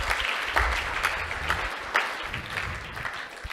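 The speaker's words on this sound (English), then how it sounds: "Let's give another round of applause." A live audience claps in a sustained round of applause at a devotional temple program, dense and steady throughout with a slight swell partway, no voices on top.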